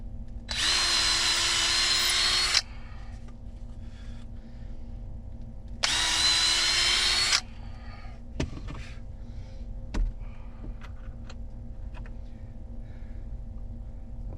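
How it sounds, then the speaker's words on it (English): A power drill bores into an attic fan mount in two loud, separate bursts of about two seconds each, followed by quieter clicks and handling noises against a steady attic fan hum. "Actually, let's drill this guy"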